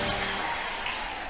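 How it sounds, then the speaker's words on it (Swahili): A church congregation applauds in praise of Jesus during a live prayer service, a brief, dense burst of steady clapping that fills the room. "Pigia Yesu makofi"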